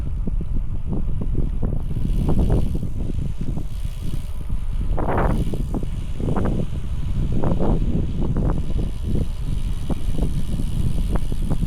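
Strong crosswind buffets the microphone on a mountain ride over Rohtang Pass, a continuous loud rumble with gusty bursts and a faint vehicle hum beneath it.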